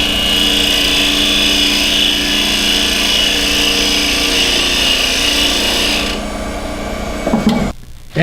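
Wood lathe spinning a cryptex part while sandpaper rubs against it, a steady close whirring rasp that stops near the end and is followed by a few handling knocks.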